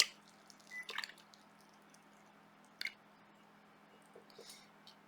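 A watercolor brush swishes and taps in a water jar, making faint wet splashes and a few soft clinks in short separate bursts against a quiet background.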